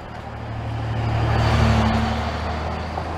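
Traffic near a park parking area in Victoria, BC, a low rumbling vehicle passing close by that swells to a peak mid-clip and fades, with a steady engine drone underneath and no talking.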